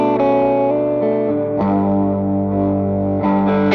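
An electric guitar on the middle pickup with its volume rolled back runs through a Line 6 model of a 100 watt Marshall Super Lead Plexi, giving slightly driven chords that ring loud and sustained, alone and steady.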